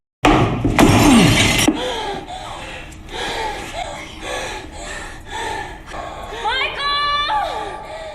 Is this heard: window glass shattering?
yes